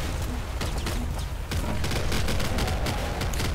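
Dense, continuous gunfire and bullet bursts in the video game Nuclear Throne, a loud, crowded barrage of overlapping shots and impacts with no pause across the whole stretch.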